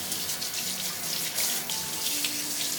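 Silk Sweet sweet potatoes being scrubbed under a running kitchen tap before baking in their skins: a steady, close rush of water splashing over the tubers, with no voices.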